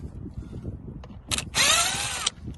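A power tool driving a T20 socket to remove bolts in a Tesla Model 3 Highland, a short buzz followed by a louder whirring run of under a second, close up amid quiet handling noise.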